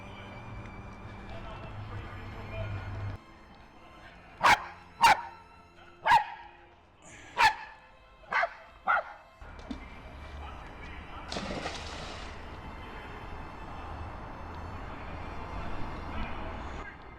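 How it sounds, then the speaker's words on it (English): A dog barks in a burst of six sharp, loud barks spaced about a second apart, eager for its ball, with quieter background noise before and after. "The dog's barking, he wants his ball."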